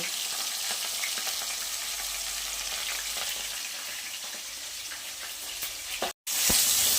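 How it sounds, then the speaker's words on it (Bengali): Pieces of catla fish fry in a pan of hot oil with a steady, dense sizzle that runs unbroken for several seconds and then cuts out briefly near the end. "মাছগুলো একের পর এক আমি সবগুলো মাছগুলো ভেজে নেব।"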